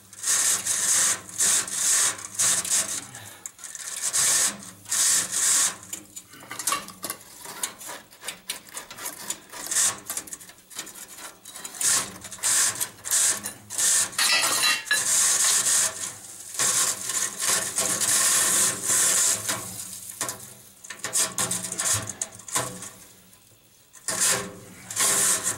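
A brush scrubs back and forth inside a chimney lined with creosote, giving continuous rough, rasping strokes that pulse irregularly at close range over about twenty-five seconds, with only brief pauses.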